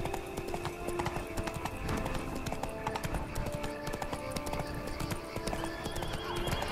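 A horse gallops in The Witcher 3 video game. Hooves clip-clop in a fast, steady rhythm, close by, with occasional whinnies over busy game sound.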